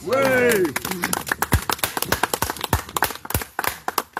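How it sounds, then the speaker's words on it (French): One person claps hands during a French-language presentation about a sign panel, sharp separate claps following a drawn-out spoken word, with further talking mixed among the claps. "je peux applaudir comme ça"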